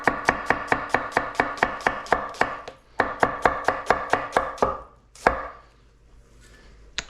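A knife slivers onion on a cutting board in quick, even chops that come close and loud in two runs, followed by a few scattered knocks and quiet.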